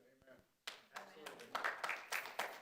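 Scattered audience clapping at a county Board of Supervisors public meeting, a burst of individual claps that starts suddenly, building into uneven, moderately close applause from a small group after brief talk.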